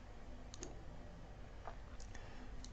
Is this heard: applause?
no